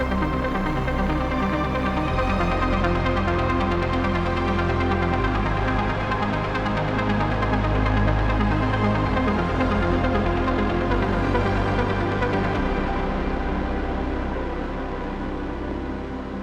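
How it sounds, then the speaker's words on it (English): A full synth section from Hans Zimmer libraries playing together at a climax, a dense, loud, continuous layered texture with pulsing upper patterns over shifting deep bass notes, no voices. "So the whole synth section will sound like this together in part 3,"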